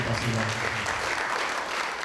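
An audience at a slam poetry competition at the Centre Nelson Mandela breaks into dense, steady applause that holds throughout, with voices faintly mixed in underneath.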